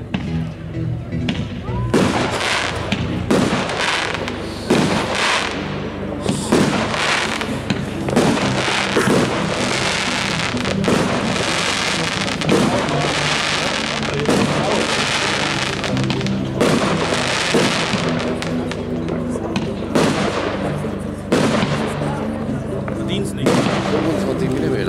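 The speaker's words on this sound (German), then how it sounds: "Batterie, 25 Schuss, 25 mm in F2 aus der Signature Range." A 25-shot firework battery of 25 mm calibre from the Signature Range, fired at a pyrotechnics demonstration: a rapid series of sharp booms and crackling bursts over about 25 seconds, loud and close, with people talking in the background.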